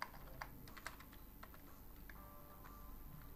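Typing C# code on a computer keyboard: quick, light, irregular key clicks in short bursts, faint and close in a quiet room with no talking.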